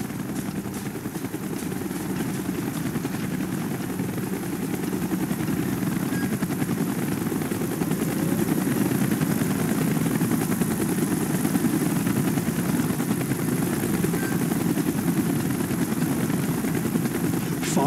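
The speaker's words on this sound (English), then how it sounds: "Chopper's inbound. Move it." A helicopter drones continuously overhead, a loud, steady rotor thrum with a constant engine roar that never lets up.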